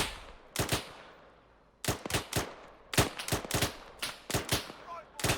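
Player's rifle firing in Arma 3: loud, close single shots and quick pairs in irregular volleys, each with a sharp crack and short echo, separated by pauses.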